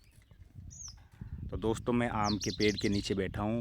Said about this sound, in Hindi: एक छोटी चिड़िया बोल रही है